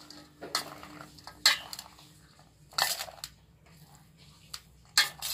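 A spoon stirs pani puri filling with fresh mint leaves in a bowl, giving several separate clinks and scrapes spaced a second or so apart against a quiet, low background.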